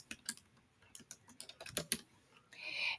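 Quick, light keystrokes on a computer keyboard as a name is typed in, a short irregular burst of clicks heard close and clear, ending in a soft hiss.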